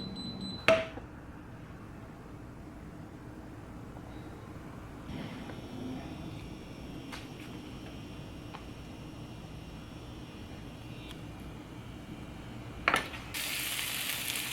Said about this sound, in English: I'm re-oiling the pan and placing the slabs in before turning up the heat.